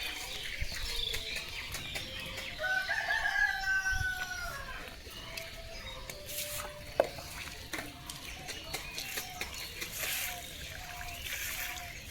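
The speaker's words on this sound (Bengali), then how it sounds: "দেখো পাশের বাড়ি মুরগি ডাকছে।" A chicken calls from the neighbouring house in a rural home, a faint, distant drawn-out clucking that rises and falls amid quiet yard noise and small splashes of rice being washed.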